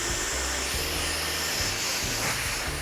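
Hair dryer blowing hair for a bouncy blow-dry, a loud, steady, close airy roar with a constant motor whine and slight wavering as the airflow moves.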